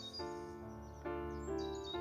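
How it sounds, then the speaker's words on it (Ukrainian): Birds sing outdoors in winter on the first of January, a dense, continuous chorus of bright tonal whistles and trills that fills the scene from start to end at moderate loudness, with no talking. "Я що такого не пам'ятаю, аби 1 січня так співали птахи."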